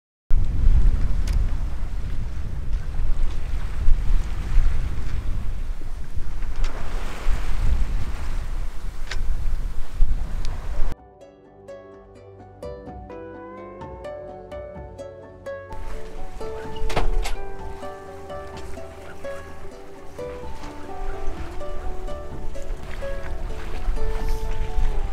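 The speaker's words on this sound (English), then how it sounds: "Now, weirdly, the wind is dying back down to 9 knots." A sailboat runs under wind off the north coast of Majorca, with loud gusting wind and rushing water for about ten seconds, then quieter sailing sounds with creaks and tonal rigging noises.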